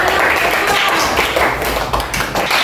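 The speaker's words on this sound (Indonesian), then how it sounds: "berikan dulu tepuk tangan untuk" Primary school pupils clapping for a classmates' group after their presentation in a classroom, a loud, slightly uneven patter of many hands lasting under three seconds, with faint voices mixed in.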